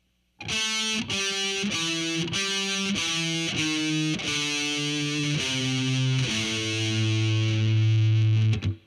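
Distorted electric guitar plays a slow lick, about a dozen sustained notes picked one after another, each ringing briefly before the next, ending on a longer held note.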